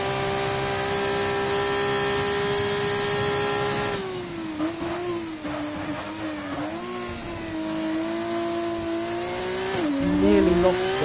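A Formula 2 race car with DRS open sets a flying lap at Monza, its engine whining at a steady high pitch, then dropping and rising through gear changes and braking as it heads into turn 1, with light static over it.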